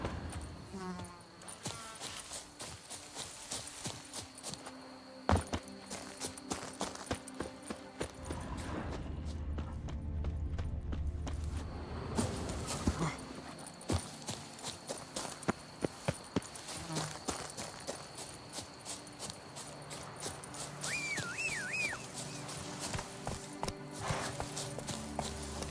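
The horse Roach trots in The Witcher 3 video game, with steady hoof clip-clops under game music and ambience, heard at moderate distance throughout.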